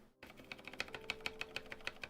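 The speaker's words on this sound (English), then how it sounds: "now it's not a rattly, weird keyboard. It's going to be more of a squishy on one side" Typing on a modded Ducky One 2 SF keyboard with silent switches: a steady run of soft, muted, close keystrokes, each one a dull tap, heard alone in a quiet room.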